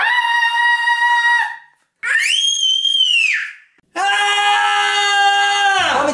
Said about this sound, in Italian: Fammi un urlo prima di iniziare.